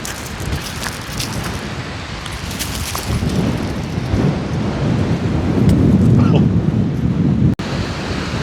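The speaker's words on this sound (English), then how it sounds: "It is so windy right now." Strong wind gusts across Rebecca Spit on Quadra Island, a loud broad roar buffeting the microphone and swelling toward the end, with a brief dropout near the close.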